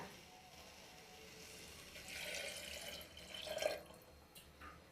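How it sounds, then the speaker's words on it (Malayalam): Water is poured into a pot of chopped breadfruit, a soft splashing trickle that swells in the middle and ends in a brief gurgle, quiet and close. "ആവശ്യത്തിന് വെള്ളം ഒഴിക്കുക."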